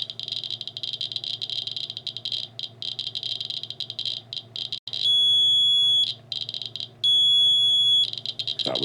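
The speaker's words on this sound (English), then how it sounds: "That was the alarm." A Ranger radiation survey meter clicks and chirps rapidly, then sounds two long, loud, steady electronic alarm tones separated by a short gap, close and alone.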